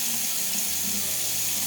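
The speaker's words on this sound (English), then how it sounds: "Get that wet with some warm water." Warm water runs from a tap onto a washcloth to wet it. A short, steady, even hiss of flowing water is heard alone, with no voices.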